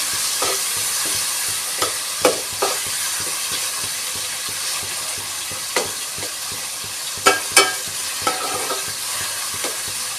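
Sliced big onions fry with a steady sizzle in a pan for South Indian fish curry, while a spoon scrapes and knocks against the metal in scattered sharp clicks.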